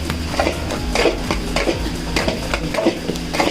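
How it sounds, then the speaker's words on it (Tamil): Muscat halwa stirred with ghee in a pan: repeated scraping strokes of a spoon against the metal in a regular rhythm over a soft sizzle, close and fairly loud, with no talking. "நெய்யை ஊற்றி கிண்ட ஆரம்பிக்கலாம்"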